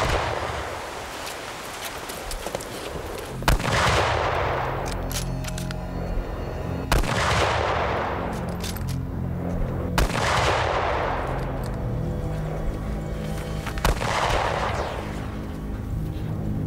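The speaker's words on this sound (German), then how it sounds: "Sie können hier doch nicht so einfach rumschießen." Gunshots fired outdoors in the mountains, four or five loud cracks spaced a few seconds apart, each followed by a long echoing reverberation that fades before the next.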